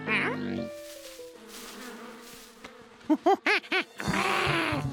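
Small cartoon bees buzz around a tree, their thin droning hum mixing with music notes and a brief run of tuneful voice-like tones, with no clear spoken words.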